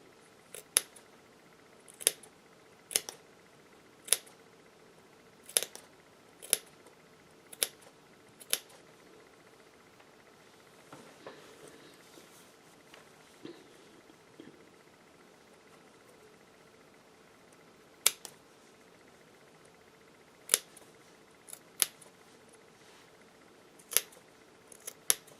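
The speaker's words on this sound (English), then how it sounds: "And clip all the way around." Scissors snipping around the edges of a rag quilt, sharp isolated clips in irregular bursts, a quick run of about a dozen, then a pause and several more, close and crisp over a quiet room.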